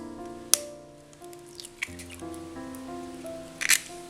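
An egg is cracked and poured into a bowl of sugar for a Kerala split cake: a sharp crack, a wet slide and squish as it drops in, then a second crisp tap near the end, close and quiet.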